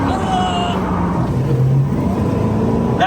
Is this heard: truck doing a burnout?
yes